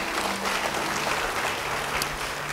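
Audience applause at an Indonesian church sermon, a steady wash of clapping through the whole stretch, moderately distant with a faint tonal hum beneath.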